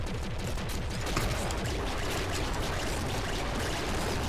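Rapid, dense gunfire from the top-down shooter Nuclear Throne, a continuous loud barrage of overlapping shots lasting a few seconds with no talk over it.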